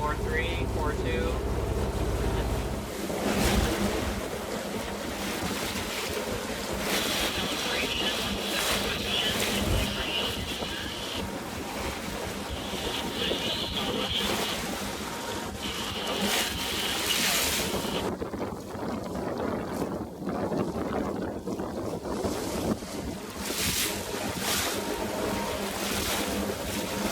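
A boat pushes through choppy water in roughly 25 knots of wind on the Intracoastal Waterway in Florida, with steady wind roar and splashing chop throughout, under an intermittent talking voice.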